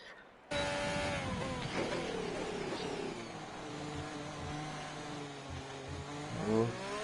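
Ferrari Formula 1 cars in a video game at the Italian circuit on their final laps, a steady engine drone with rising and falling pitch, heard close under a commentator's voice.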